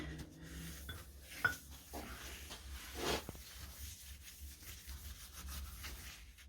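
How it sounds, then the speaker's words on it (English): Quiet rubbing and wiping strokes on a large metal coal hammer being cleaned of oil with acetone, with a few light knocks and scrapes, no talking. "Now it's going to be a case of acetoning this thing down and getting all the oil off"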